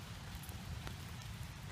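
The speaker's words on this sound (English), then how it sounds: "it's just like a fine, misty rain." Fine, misty rain falls steadily beneath a tree on an October day, a soft, even hiss with a low rumble underneath and no voices.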